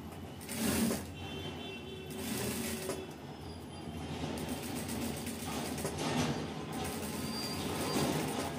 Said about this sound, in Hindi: ये हमने डबल सिलाई हम इसके ऊपर लगा रहे हैं।